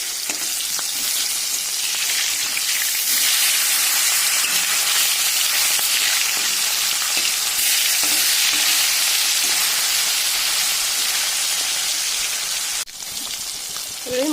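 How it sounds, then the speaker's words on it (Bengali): Several pieces of fish fry in hot oil in a kadai, a dense, continuous crackling sizzle like heavy rain, with occasional stirring or turning sounds and a brief dip near the end. "কড়াইয়ে দিয়ে দিচ্ছি তেল, মাছ কটাকে একটু ভেজে নেব"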